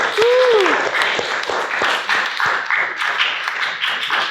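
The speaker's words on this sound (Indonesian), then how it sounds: "semua sudah lihat tepuk tangan untuk kalian semua ya" A classroom of students applauds together, a dense, steady wash of clapping with a few louder individual claps and a brief voice near the start.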